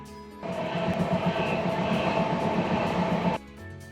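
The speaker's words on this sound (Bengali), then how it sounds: "আর এই যে ট্রেন চলছে হাইওয়ের পাশ দিয়ে," The 12246 SMVT Bangalore–Howrah Duronto Express runs beside a highway, heard from the sleeper class. A sustained rumble of wheels and carriages rises abruptly, holds steady for about three seconds, then cuts back to quiet.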